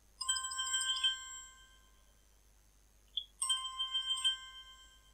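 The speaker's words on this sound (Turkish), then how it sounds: "Telefon çalındı lan." A telephone ringtone chimes inside a computer game, a clear electronic melodic ring lasting about a second, then a pause and another ring, quiet and alone.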